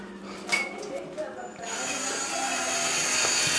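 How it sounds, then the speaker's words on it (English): A power drill whirs steadily into a wine bottle cork, a high continuous grinding whine that starts partway in and holds, with voices nearby at first. "we do have"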